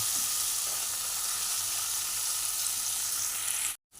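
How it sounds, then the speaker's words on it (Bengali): Onion and tomato frying in a pan, a dense continuous hiss of sizzling oil held close and steady, then cutting off abruptly near the end. "দেখুন পেঁয়াজ আর টমেটোটা মোটামুটি ভাজা হয়ে এসছে"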